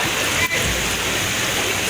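Flood water from a flash flood in Tegal rushing continuously, a steady hiss-like roar of moving water close by, with a brief dip partway through.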